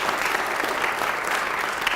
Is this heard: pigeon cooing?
no